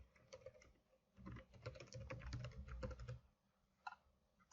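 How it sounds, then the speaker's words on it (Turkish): Keys clatter on a computer keyboard as an e-mail address is typed, quick bursts of close, faint tapping with a short pause and a final few strokes. "Ben kendi e, e-posta adresimi yazıyorum."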